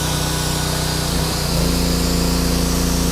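An engine-driven welding machine runs steadily, a loud, continuous mechanical drone with a buzzing whine; its pitch and load shift briefly partway through before settling into an even hum.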